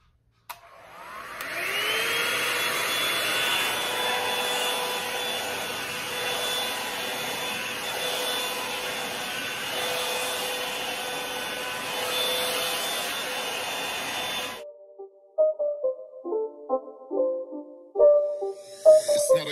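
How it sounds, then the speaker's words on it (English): A blow dryer with a comb attachment drying natural hair gives a steady close whooshing hum with a high whine that runs for about thirteen seconds, then cuts off, and some quieter handling sounds follow. "I'm gonna go in with this, and I'm gonna go ahead and start blow drying."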